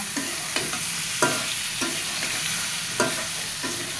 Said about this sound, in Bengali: আলু পটল সয়াবিন দিয়ে দিলাম। এবার এই আরেকটু ভালো মতো কষায় নিব।